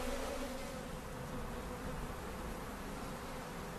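Honey bee drones from a colony with a high Varroa load buzz in a steady, soft, continuous drone that holds evenly throughout, with no voices.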